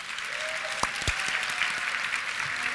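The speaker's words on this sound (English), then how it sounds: "How about another big round of applause for Paula Williams" An audience gives sustained applause at an evening nurses' event, an even wash of clapping from many hands throughout, with a couple of sharper close claps standing out.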